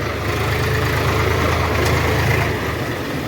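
A harvesting machine and a tractor idle close by in a wheat field, a steady low diesel rumble with a constant throb and no talking.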